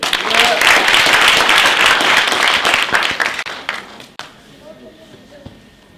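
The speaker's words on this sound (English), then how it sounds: "round of applause again for them" Round of applause from the audience at a university symposium closing ceremony, loud dense clapping for several seconds that thins and fades out near the end, followed by quieter room sound.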